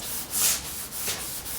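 Hand sanding a Porsche 356 body panel with sandpaper: soft, rhythmic back-and-forth rasping strokes, close and fairly quiet, with no talking.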